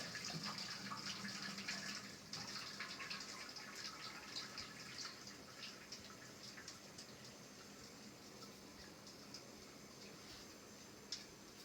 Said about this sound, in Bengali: এই যে নুডলসটা হচ্ছে এখন ছাঁকে নিচ্ছি আমরা